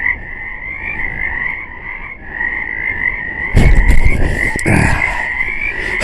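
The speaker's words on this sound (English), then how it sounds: "You hear these frogs? I'm very happy to have frogs." Many frogs croak together in a steady, dense chorus at moderate distance, joined by louder rustling or handling noise partway through.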